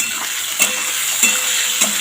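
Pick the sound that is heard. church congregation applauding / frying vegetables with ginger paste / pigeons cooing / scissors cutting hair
frying vegetables with ginger paste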